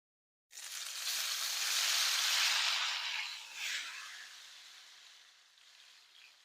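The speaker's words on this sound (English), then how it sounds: "Nice sizzle." Tomatoes drop into hot oil and burst into a loud sizzle that swells, then slowly quiets to a softer crackle.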